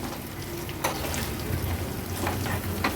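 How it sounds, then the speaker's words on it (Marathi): Curry leaves, dry red chili and hing sizzle in hot oil as a tempering is stirred, a steady close frying crackle with occasional sharper pops and spoon scrapes. "व्यवस्थित ही फोडणी परतून घ्यायची आहे."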